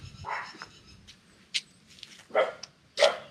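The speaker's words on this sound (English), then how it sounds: "There's 2, 3 dogs here." Several dogs nearby giving a few short, scattered barks and yelps spaced across the moment, moderately loud over a quiet outdoor background.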